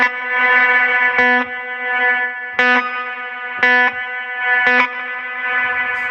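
Electric guitar through a Fish Circuits Astronomie spring reverb pedal with feedback control, a steady sustained chord struck four times in a regular rhythm, each attack blooming into a loud, washy, distorted reverb tail.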